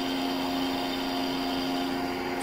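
A Leybold Sogevac SV 40-65 BIFC rotary vane vacuum pump, 240 V 60 Hz, with a cracked cover, runs with a steady, even motor hum and a constant drone, close by and unbroken.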